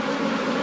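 Honey bees swarm loudly at a beehive being worked by a beginner beekeeper, a dense, steady drone of many wings filling the whole moment up close, with no voices.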